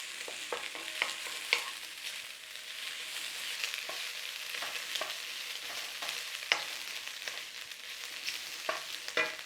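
Egg fried rice with soy sauce sizzles in a hot pan while being stirred and tossed, a steady fizzing hiss broken by frequent clicks and scrapes of the utensil, close and with no talk.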